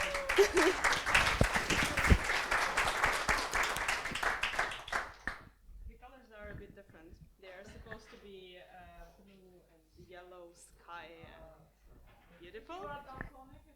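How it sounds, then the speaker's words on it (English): A conference audience at a Python lightning-talk session applauds, dense clapping filling the room for about five seconds before fading out, followed by someone speaking alone. "let's give them a big round of applause"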